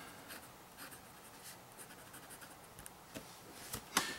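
A vintage Sheaffer Imperial IV fountain pen with an inlaid nib writing on paper, a faint, soft scratching of strokes with a small tap near the end, quiet and close, with no talk.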